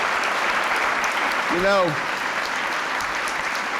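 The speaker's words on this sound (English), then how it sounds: "you're applauding," Audience applause at a 1997 business enterprise awards event, a steady broadband wash of clapping filling the room while someone speaks briefly over it.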